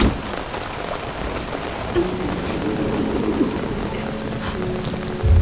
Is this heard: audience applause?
no